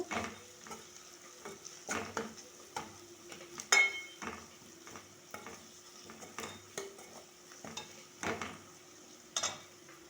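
Mutton and onions fry in hot oil with a steady faint sizzle, broken by repeated scraping and clinking stirs of a utensil against the pan, with no one talking.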